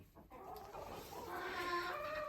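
Farm fowl calling from a shed holding blue, black and lavender ducks, soft clucking and quacking murmurs at close range, fairly faint, building into a steadier chorus.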